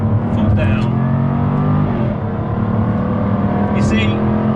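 A Jaguar F-Type P450 powers out of a corner at full throttle, its engine roaring loud and steady throughout as it accelerates through a set of bends, with faint road and wind noise underneath.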